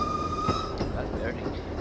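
A Manx Steam Railway steam train on the Isle of Man rumbles steadily with a continuous low mechanical roar and a brief high whistle-like squeal near the start.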